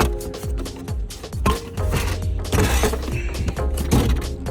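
Metallic clanks, thunks and ratcheting creaks as a 27mm socket loosens the oil filter on a Mercedes CLA, tucked beneath engine components, in a steady busy run of close mechanical knocks.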